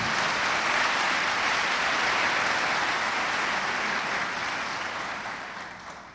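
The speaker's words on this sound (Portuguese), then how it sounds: "Pode aplaudir a Jesus." A church congregation applauds in sustained, dense clapping that fills the space at steady volume, then tapers slightly toward the end, with no talking over it.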